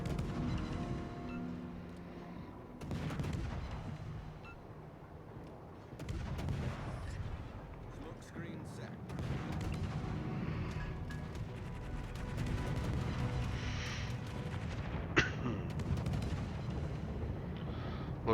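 Naval gunfire in World of Warships, heavy booming salvos and rumbling blasts layered over a continuous dense battle din, with a sharper crack near the end.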